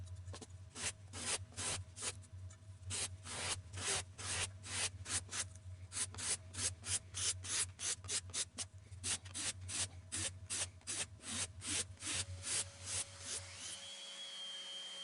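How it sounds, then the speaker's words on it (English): An orbital sander works over both sides of a solid maple king-size headboard, smoothing it to 220 grit. A steady low motor hum runs under rhythmic, repeated rasping strokes, close and fairly loud, and it cuts off near the end. "now I used my orbital sander and just went across both sides, get everything nice and smooth all the way down to 220 grit"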